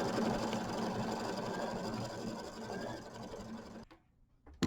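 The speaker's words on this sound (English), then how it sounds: "I am going to quilt my background to be ready for my applique next" An embroidery machine quilts the background of a Kimberbell mini quilt with a fast, steady mechanical whir that runs close and continuous, then stops, leaving a few soft clicks.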